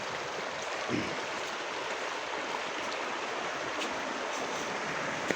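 Khudi Khola, a Himalayan river stream, rushes in a steady, dense wash of flowing water that stays even and close throughout, with no voices.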